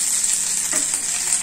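Tilapia fish fries in oil with a steady, bright hiss and soft crackle, close and continuous.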